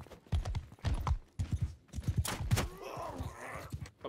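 Horse hooves clip-clopping in the medieval battle game Bannerlord, a close run of heavy, rhythmic hoofbeats in quick pairs, ending in a breathy, snorting sound.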